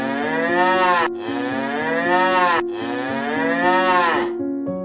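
A water buffalo in a film lets out three long, loud, drawn-out moos one after another, close and dominant, with a low steady hum beneath.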